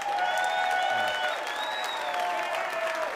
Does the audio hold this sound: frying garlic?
no